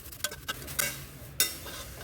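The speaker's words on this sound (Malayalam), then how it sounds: "ഇതേപോലെ ചൂട് കട്ടിയുള്ള ഒരു പാത്രത്തിലിട്ട് വറുക്കാം. ചെറിയ തീയിലിട്ട് വറുക്കണം." Flattened rice (aval) roasting over a low flame in a heavy, thick-bottomed pan, heard as a soft dry rustle broken by several sharp scraping stirs of a spoon against the metal, close and without speech.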